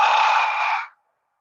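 A long, breathy exhale close to the listener, steady for nearly a second before trailing off into silence.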